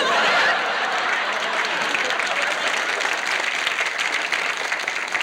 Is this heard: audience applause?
yes